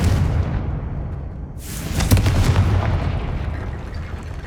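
A Confringo fire-blast spell in the video game Hogwarts Legacy erupts as a loud, booming explosive burst with a sharp crack partway through, trailing into a rumbling roar and no talking.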